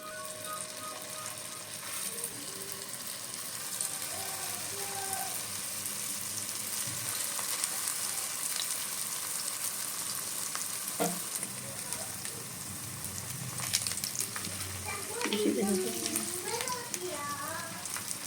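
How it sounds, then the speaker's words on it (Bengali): Vegetarian mock hilsa fish pieces fry in oil with a steady sizzle and occasional stirring scrapes that run throughout, and brief voices are heard near the end. "ইলিশ মাছগুলো ভাজার জন্য আমি তেল দিয়ে দিলাম।"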